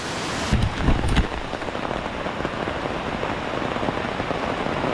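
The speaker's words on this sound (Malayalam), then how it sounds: "മഴ നല്ല ശക്തിയായിട്ട് പെയ്യുവാട്ടോ" Heavy monsoon rain pours steadily in a dense, even roar over a village, with a few louder splashes or knocks near the start.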